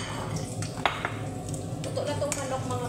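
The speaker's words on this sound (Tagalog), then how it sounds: "Iprito na natin." Precooked chicken wings frying in a pan with a soft steady sizzle, punctuated by a few sharp clinks and scrapes of a utensil against the pan.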